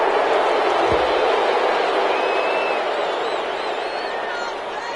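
A video game football match's stadium crowd reacts to a penalty call in a loud, steady roar of voices that holds throughout and eases slightly toward the end.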